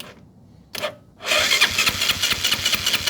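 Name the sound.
Kawasaki Rouser 135 motorcycle engine being started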